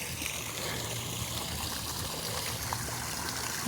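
Water of Jury Fountain at Lock Haven University splashes and trickles in a steady, moderately close stream, a continuous soft burble with no voices.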